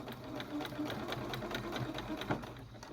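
A sewing machine stitching a bandana runs a short burst forward and then back to lock the stitch, a rapid, even mechanical chatter that stays close and fairly quiet, with no talking.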